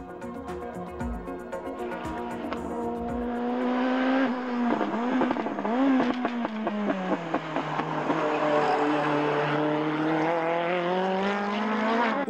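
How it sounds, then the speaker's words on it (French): A Peugeot 505 Turbo racing car with a roughly 600-horsepower turbo engine accelerates hard on the Hockenheim track, its loud engine rising through the gears with sharp shifts and crackling revs. "la 505 Turbo de Jean-Pierre Beltoise est de loin la plus puissante de ces trois voitures françaises, puisque son moteur propose pratiquement 600 chevaux"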